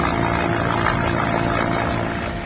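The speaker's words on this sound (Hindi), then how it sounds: "घरों में फंसे लोगों के लिए सेना हेलीकॉप्टर से राशन पहुंचा रही है।" An army helicopter drops sacks of ration supplies onto rooftops over a flooded village, its rotor and engine producing a loud, steady, unbroken roar that fills the whole stretch.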